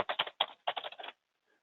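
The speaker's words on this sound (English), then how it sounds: "doesn't do any good to type on my computer keyboard" Fingers type on a computer keyboard in close, crisp bursts of rapid key clicks, three short clusters within about a second, then silence.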